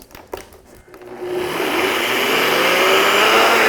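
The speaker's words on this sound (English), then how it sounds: "So I've just taken my NutriBullet and filled it to the max fill line with just some quick oats" NutriBullet blender grinding quick oats into flour: a loud, steady whirring roar kicks in after a second of faint clatter and holds continuously at close range.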